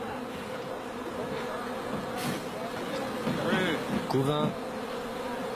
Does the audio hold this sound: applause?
no